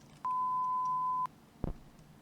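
A phone line tone after a call hangs up in a video game, a single steady electronic beep held for about a second, followed by a short low thump.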